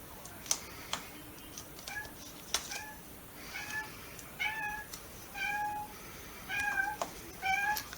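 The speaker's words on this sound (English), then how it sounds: "my cat's playing with her little toy" A cat playing with her small toy lets out a run of short, chirping meows amid light tapping clicks, faint and fairly close in a quiet room, with no talking.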